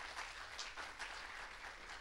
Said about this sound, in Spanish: ¿Por qué no le das un fuerte aplauso al Señor?